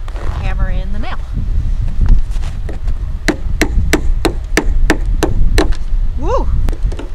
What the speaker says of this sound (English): So we're going to try to see if this banana will hammer in the nail.